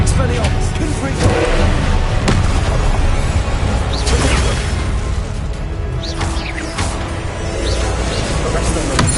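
Fiery Confringo spell blasts go off repeatedly during Hogwarts Legacy combat, loud booming bursts and crashes layered over dense, continuous battle noise with faint voice-like sounds mixed in.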